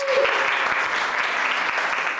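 Dense crowd applause welcoming a teacher back to school, steady clapping throughout with no pauses, fairly loud and close.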